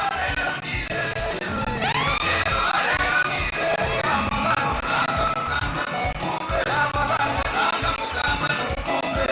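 A crowd at a live political rally ululates and cheers loudly, with high trilling whoops and yells over a constant dense roar of many voices, sustained throughout.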